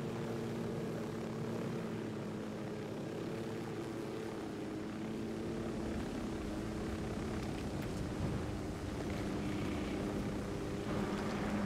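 A helicopter in Ghost Recon Wildlands sits after landing, its rotors and engine still turning with a steady droning whir and low hum that holds throughout, fairly loud and near, with no voices.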